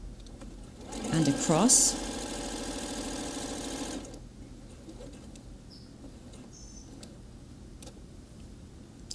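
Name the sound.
sewing machine stitching a seam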